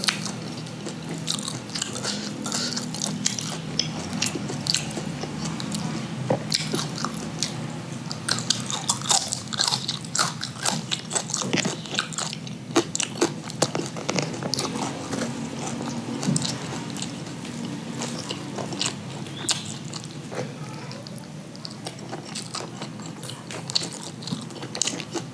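Raw yardlong beans crunched up close in a mukbang of raw vegetables with crispy fried fish and red sambal: a steady stream of crisp bites and wet chewing clicks, loud and continuous, with no talk.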